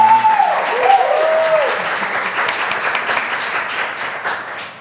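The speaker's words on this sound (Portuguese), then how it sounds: "aplauso para a nossa amada e para a nossa amada. Mais barulho para as nossas amigas" An audience applauds loudly for the Libras sign language interpreters at a poetry talk, the clapping dense and sustained and slowly easing off, with a voice briefly heard over it at the start.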